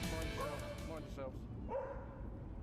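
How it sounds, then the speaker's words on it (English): A dog trapped on a riverbank barks and yips a few times, close and fairly clear, with a narrator talking over it almost throughout. "It's a dog. It's trapped on the riverbank."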